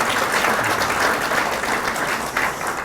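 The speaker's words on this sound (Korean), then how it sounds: "동의하시면 박수 한번 쳐주시기 바랍니다" An audience at a political forum lecture breaks into sustained, dense clapping, a loud continuous patter that holds steady for the whole stretch.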